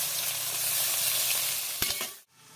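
Chopped tomato goes into onions fried until red in a pan, making a bright, steady sizzle. A few sharp clacks follow near the end, then a sudden drop to near silence before the frying resumes faintly.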